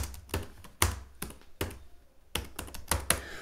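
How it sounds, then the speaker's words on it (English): Keys tapped on a Chromebook keyboard while entering a Linux terminal command, irregular clusters of close, crisp clicks with brief pauses between bursts. "You're gonna type in sudo apt-upgrade,"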